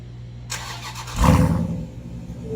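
A 2018 Dodge Durango 392 SRT with dual exhaust starts up: a short starter whir, then the engine catches with a deep, loud rumble that settles into a steady idle.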